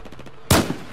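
A single loud sniper rifle shot in Battlefield 4 cracks sharply at mid-clip and decays over a short rumbling tail, with a faint second echo right after and quiet game ambience before and after.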